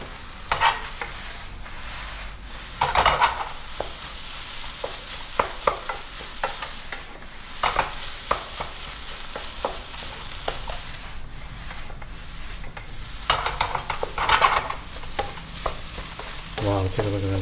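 Lobster pineapple fried rice stir-fried in a wok with soy sauce and sesame oil, a steady sizzle broken by repeated scraping and clattering strokes of the spatula, fairly close and without talk.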